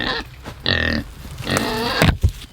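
Hungry pigs grunt and squeal loudly at close range while feed is put out, in several harsh bursts with short gaps between them.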